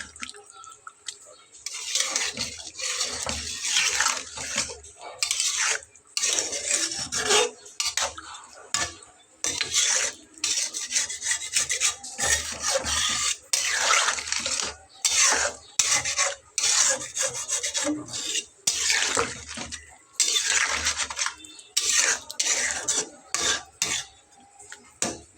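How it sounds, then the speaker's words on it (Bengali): A metal spatula scrapes and chops fried spices stuck to a pan in a vegetable curry made with dried fish paste, giving rapid rasping strokes in uneven bursts with short pauses, close and loud. "এগুলোকে খুব ভালোভাবে খুন্তি দিয়ে কেটে এর সঙ্গে মিলিয়ে দেবো"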